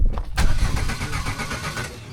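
A Citroën AX being restored cranks briefly and then catches, settling into a loud, close, rough idle with a steady rapid throb and no talk over it.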